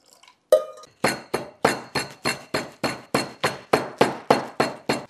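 Green chillies are crushed by hand pounding: about a dozen sharp, evenly spaced strikes, each ringing briefly, close and fairly loud, with no talking.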